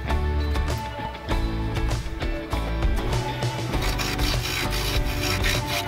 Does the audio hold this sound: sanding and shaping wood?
yes